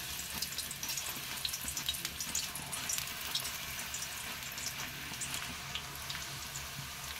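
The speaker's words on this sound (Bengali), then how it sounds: "সেম প্রসেসে বাকিগুলো ভেজে নিচ্ছি।" Slices of raw banana deep frying in oil, a steady close bubbling sizzle with fine crackles that continues evenly without pause.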